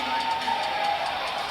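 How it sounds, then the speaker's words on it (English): A crowd cheers at a deadlift event in a strongman competition, a broad roar of voices with a sustained whoop, heard briefly and fairly loud. "So happy with the people that are cheering him on."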